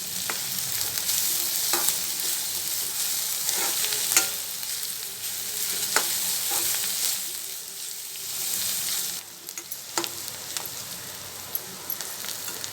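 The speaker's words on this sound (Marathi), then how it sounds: "आपला कांदा इथे ब्राऊन होत आलाय" Finely chopped onion sizzles continuously in oil as it browns, with soft scraping and regular light taps of a spoon stirring the pan throughout.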